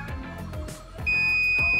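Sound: multimeter continuity beep while testing a diode

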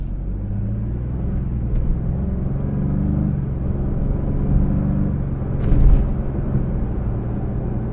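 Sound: quiet car interior with traffic around

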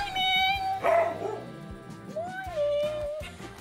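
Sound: dog barking

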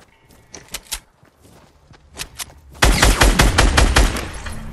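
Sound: gunshots in a video game

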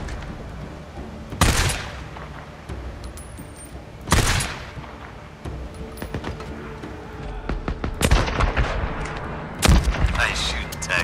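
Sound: gunfire in the video game Days Gone

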